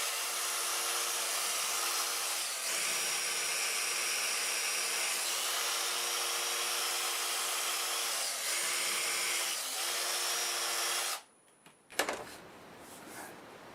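A steady, loud broadband whir of olive wood spinning on a lathe under a white Scotch-Brite abrasive pad, holding constant before cutting off abruptly near the end.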